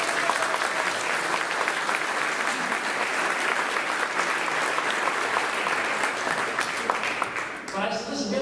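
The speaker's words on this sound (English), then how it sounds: "Let's give our police and law enforcement a big round of applause." Audience at a congressional candidate's forum in Sands Point applauds for police and law enforcement with loud, steady clapping that runs continuously before tapering off as a voice resumes at the end.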